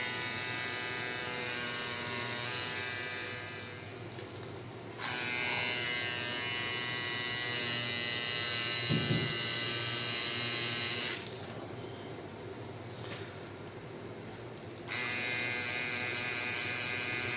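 A tattoo machine buzzes steadily while lightly marking an outline on skin, a continuous close electric whir that stops and restarts twice with brief quieter gaps.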